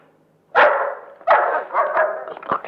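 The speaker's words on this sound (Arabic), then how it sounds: "تجيب لي كلب زي ده وتحطه لي في وسط الشقه" A dog barks in several loud, close bursts with short gaps between them.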